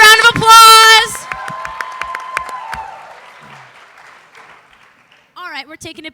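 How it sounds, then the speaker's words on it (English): A student athlete talent show audience bursts into loud cheering and whoops, then steady clapping that thins and fades over several seconds before a few voices rise again near the end. "Cats, let's give it another round of applause."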